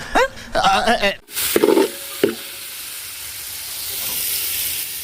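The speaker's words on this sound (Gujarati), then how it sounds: "આપણે દાળ વઘારી દીધી મરચું નાખ્યું છે" Dal tempered with chilli and spices in hot oil gives a sudden loud sizzle and hiss that settles into a steady frying noise, following a brief stretch of talk at the start.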